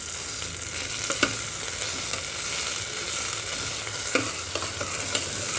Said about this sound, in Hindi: प्याज देखिए हल्के हल्के गोल्डन ब्राउन होने लगे, थोड़ा सा इसको भी भूनेंगे